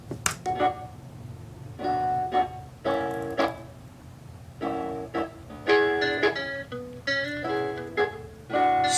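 A simple instrumental beat plays with plucky, bell-like melodic hits over a low rumbling bass, moderately loud and unaccompanied by voices.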